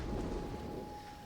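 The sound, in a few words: artillery fire raining down in video game Total War Rome 2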